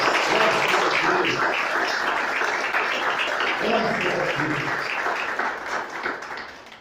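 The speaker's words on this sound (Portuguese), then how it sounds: "Vamos aplaudir o Senhor." A church congregation applauds together in a steady, dense wash of clapping that fades slightly toward the end, with voices calling out over it.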